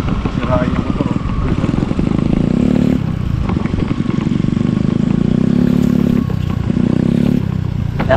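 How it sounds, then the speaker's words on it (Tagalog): A motorcycle engine runs steadily and fairly close, a continuous droning hum that shifts pitch as it idles and revs in a rural village, with people talking over it. "Sira yung motor oh."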